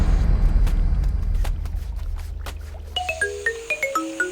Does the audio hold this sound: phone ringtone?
yes